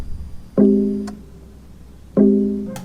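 Two bright, plucked synth-like tones sampled from a BMW i8 car, each striking sharply then ringing and fading, about one and a half seconds apart, with a faint click after the first.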